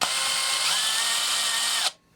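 A power drill whirs steadily and close, jeweling a rifle bolt, holding a high even spin for about two seconds before cutting off abruptly.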